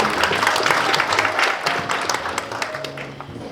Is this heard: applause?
yes